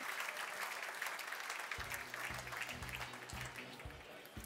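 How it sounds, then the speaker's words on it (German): Audience applause at a German gastronomy awards night in Hanover, steady dense clapping throughout, with some low rhythmic music or thumping joining partway through. "Nochmal bitte einen großen Applaus für die Marketingleiterin der 42 GmbH."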